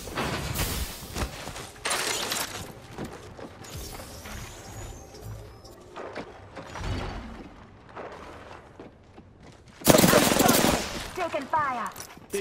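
Bursts of Apex Legends gunfire crackle in short, uneven volleys against quieter gaps, with one loud barrage near the end and brief voice lines in between.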